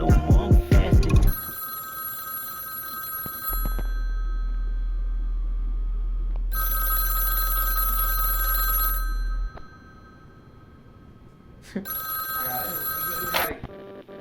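A telephone bell rings in repeated bursts at the close of a song, each ring loud and sustained, with a low hum underneath and quiet gaps between rings.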